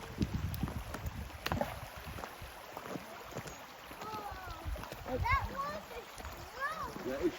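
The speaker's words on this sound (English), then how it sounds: "The sound of running water is very therapeutic." Fast, strong river water rushes steadily on a hike toward a waterfall, a continuous broadband wash with occasional splashes, while a child and an adult talk close to the microphone over it.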